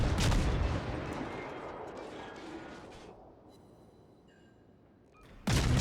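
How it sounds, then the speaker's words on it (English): Heavy broadband booms of an enemy warship firing HE shells in World of Warships, loud and close at the start, then a long rumbling decay before another sharp blast hits at the end. "He's firing HE at me."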